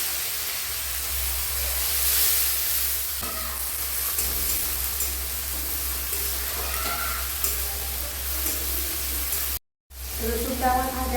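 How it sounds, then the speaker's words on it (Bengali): Ground garlic frying in hot oil for a fish curry gives a continuous close hiss and crackle that holds steady, breaks off for a moment, then resumes. "তেলটা গরম হয়ে গেছে, এবার আমি দিয়ে দিচ্ছি বেটে রাখা রসুনটা।"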